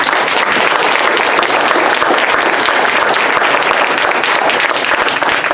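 Sustained applause from an audience at an Asian Business Association town hall, loud and dense clapping that fills the room steadily without a break, no voices standing out above it.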